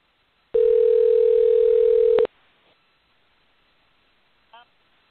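A steady, loud dial tone sounds alone for nearly two seconds after a phone line goes dead, then cuts off sharply, followed by faint room noise and a brief distant voice.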